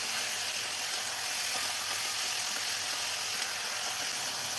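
Chicken pieces for a Kerala chicken mulakittathu sizzle steadily in a pan while being mixed, a continuous bright hiss that stays even and close throughout.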